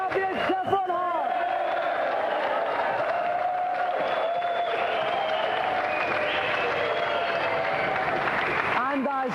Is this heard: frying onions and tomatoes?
no